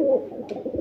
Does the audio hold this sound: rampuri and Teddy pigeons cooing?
yes